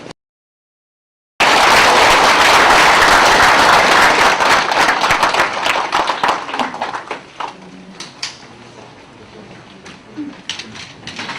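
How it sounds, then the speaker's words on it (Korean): Applause at the 56th Bohwa Award ceremony for a prize recipient bursts in loud and dense after a short silence, holding steady before thinning into scattered, fading claps near the end. "뜨거운 박수를"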